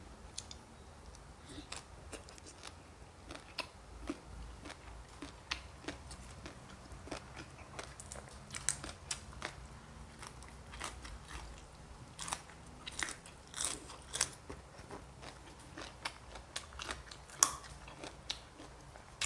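Biting and chewing raw food, with scattered crunchy bites and wet clicking chews close to the microphone, irregular and sometimes clustered over a quiet background.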